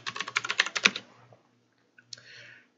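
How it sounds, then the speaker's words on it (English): A password is typed on a computer keyboard: a quick run of close, crisp key clicks, then a short pause, a couple of isolated taps and one final press. "type in your password."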